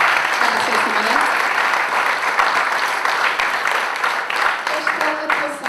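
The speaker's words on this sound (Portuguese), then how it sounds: "Uma grande salva de palmas para a Cerci Marante" Loud, sustained applause at an adaptive athletics and sports gala honouring Cerci Marante, with a crowd clapping continuously and voices faintly heard beneath.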